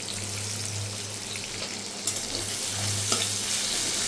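Two medium chopped onions frying in a pan, a steady soft sizzle with a low hum underneath and a couple of brief stirring clatters, close by with no talking.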